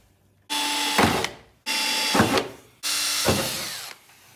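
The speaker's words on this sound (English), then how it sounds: "drilling these holes as nicely as you can" A power drill bores holes for bonnet pins on a Nissan Laguna BTCC replica track car, three loud close bursts of whining drilling, each rising as the bit bites and then spinning down, separated by short pauses.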